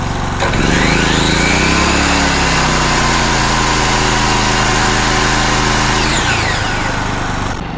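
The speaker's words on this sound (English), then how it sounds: "Now my miter saw here, this is 15 amps." A 15-amp miter saw runs on a Predator 4550 inverter generator, its steady motor whine spinning up and holding at full speed for several seconds before winding down, loud and close with no talk.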